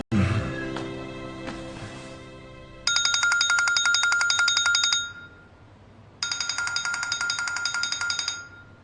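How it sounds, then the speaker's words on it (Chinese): A telephone rings twice in repeated electronic bursts, each lasting about two seconds with a short pause between, loud and close, after a brief musical tail at the start. "怎么不接电话呀？"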